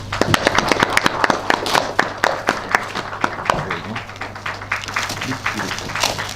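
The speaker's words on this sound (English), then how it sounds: "We will clap our hands." People at a Congress party event in Meghalaya clap their hands, a scattered round of distinct claps that starts brisk and loud, then thins into looser, uneven clapping with a low hum beneath.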